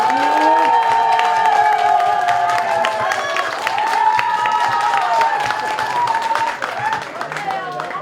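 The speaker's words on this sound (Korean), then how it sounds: "박수 한번 드리겠습니다." Loud, sustained clapping from a church congregation at a Christmas service, with cheering voices mixed in, holding steady for several seconds and tapering slightly near the end.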